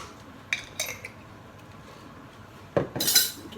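A utensil clinks and scrapes against a pan while pork, orange and star anise are stirred, giving a few sharp metallic knocks early and a louder cluster of clatters near the end over quiet background.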